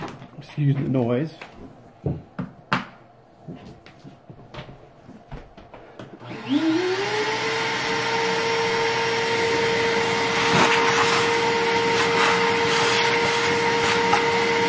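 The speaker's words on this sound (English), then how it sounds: "I'm going to vacuum this all off." Vacuum cleaner sucking debris off a Batman prototype build piece in a workshop; handling knocks and talk come first, then the motor spins up and runs loud and steady, close by.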